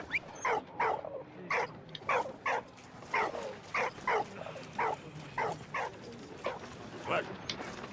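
Dog barking in the video game Valiant Hearts: a steady series of about a dozen sharp, evenly spaced barks, fairly close and loud, over a low game background.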